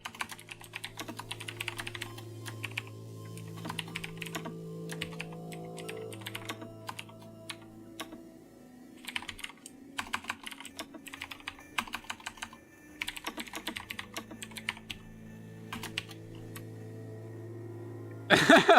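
Steady bursts of computer keyboard typing during an Eve Online combat exploration session in nullsec, clicking in quick clusters with short pauses over a low sustained game music drone, close and moderately loud, no talking.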